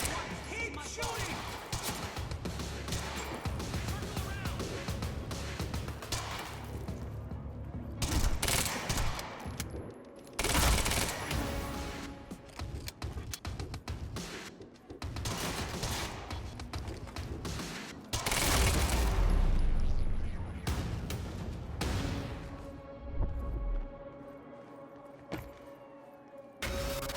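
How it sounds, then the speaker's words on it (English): Sustained automatic gunfire bursts in the video game Quantum Break, loud and dense with brief gaps, mixed with game effects and voices talking over it. "Monarch firing at us."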